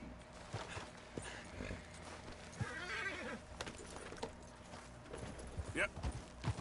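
In the Red Dead Redemption 2 video game, a horse whinnies and its hooves clip-clop at a gallop, a voice talking over the uneven hoofbeats.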